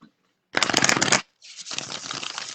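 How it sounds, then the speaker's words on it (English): Tarot cards are shuffled in two quick bursts of rapid riffling and flapping, the first louder and the second softer, with a short pause between. "Okay. Shuffled up."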